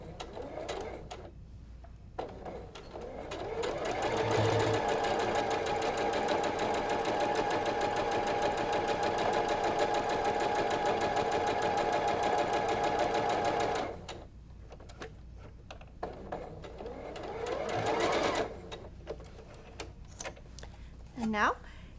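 A sewing machine stitches a half square triangle quilt block, its steady whirring motor running continuously for about ten seconds, with quieter handling noises and a voice around it.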